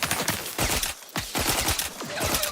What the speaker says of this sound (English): Something else is shooting at me.